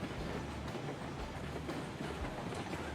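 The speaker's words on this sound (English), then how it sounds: "This is a very powerful engine, but that's a very heavy train, even though there's only 6 wagons on it." Heavy oil train of six wagons pulled by a powerful locomotive in the game Railroads Online, a steady loud rumble with rhythmic clickety-clack of wheels over rail joints, continuous and close, with no talking.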